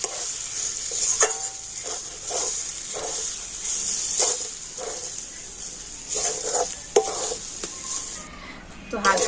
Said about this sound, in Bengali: আর এখন আমি তেলের সাথে কিন্তু আর এই মিশ্রণটা খুব ভালো করে নাড়াচাড়া করে নেব।